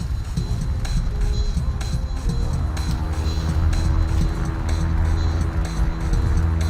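A small plane's engine at full throttle for a touch and go with no flaps set, a loud steady drone and throb that fills the cabin and grows slightly stronger, with no voices.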